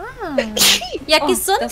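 A single sharp sneeze from a person playing Resident Evil 6 bursts out amid a German-speaking man's casual chatter, its noisy broadband burst standing out briefly between spoken exclamations close to the microphone.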